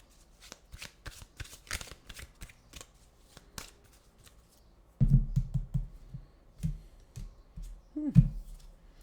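A deck of animal oracle cards is shuffled by hand, giving a run of crisp riffling flicks and taps close up, followed by a few heavier thumps and a soft voice in the background.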